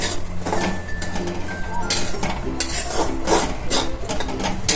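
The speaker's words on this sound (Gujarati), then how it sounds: "એને પેલા કોરો શેકી લઈશું આપણે 2 મિનિટ માટે" Semolina (rava) is dry-roasted in a pan for sheera while a spoon stirs it steadily, making a continuous close scraping rasp with no talking.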